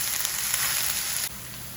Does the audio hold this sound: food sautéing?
yes